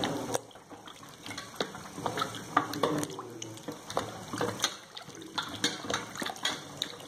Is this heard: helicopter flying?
no